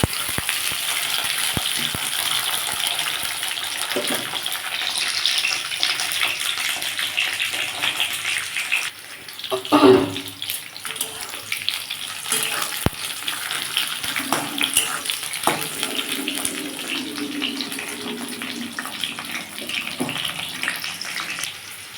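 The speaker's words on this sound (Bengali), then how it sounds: "আমি এর মধ্যে ক্যাপসিকাম আর চিচিংটা দিয়ে দিয়েছি ভালো করে ভেজে নেবো" Capsicum and snake gourd sizzle and crackle in hot oil throughout, with occasional clatters and stirring sounds; no one speaks.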